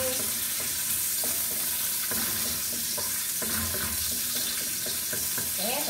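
Ginger and turmeric sautéing in a pan crackle with a constant close sizzle, punctuated by repeated scraping and tapping of a stirring utensil.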